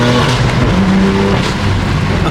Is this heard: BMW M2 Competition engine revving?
yes